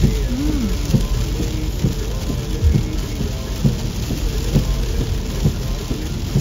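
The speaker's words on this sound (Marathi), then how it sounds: "खूप जास्त पाऊस आहे" Heavy rain pouring down on a road in Germany, a dense, continuous hiss of drops striking surfaces, loud and steady, with occasional heavier spatters and faint voices murmuring underneath.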